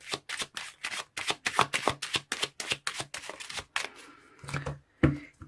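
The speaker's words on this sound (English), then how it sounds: "let me pull some Lenormand's cards to clarify the situation" Lenormand cards shuffled in quick rapid bursts of crisp riffling clicks, close and fairly loud, then slowing into a few separate soft flips and taps as cards are drawn and laid down.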